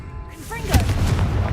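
A Confringo explosion spell goes off in a video game: a sharp, booming blast with a low rumble that lingers briefly, following a shouted voice.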